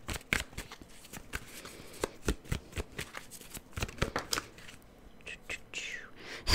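Tarot cards being shuffled by hand before a clarifier card is drawn, crisp rapid riffles and slaps in close, irregular bursts, with soft whispery noise between them and no clear speech.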